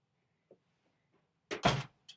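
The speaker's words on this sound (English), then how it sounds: "can you shut my door for me?" A room door is pushed shut on a cold day in a New York City home, landing as one loud, close thud with a short rattle, set apart by a few faint taps before it and a small knock after.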